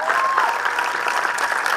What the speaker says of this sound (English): I really need all of you to be a little louder with your clapping.